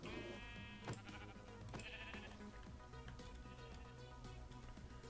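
Sheep bleating in Minecraft, repeated short game bleats over a steady bed of background music and game sounds, moderately loud throughout.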